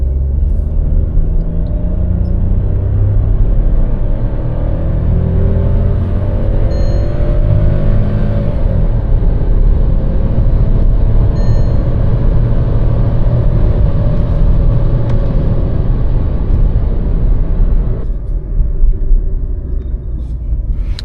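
A Volkswagen Taigun 1.0 TSI three-cylinder turbo petrol with a torque-converter automatic accelerates in S mode, a steady loud engine drone and road rumble rising continuously with no talk, easing slightly near the end.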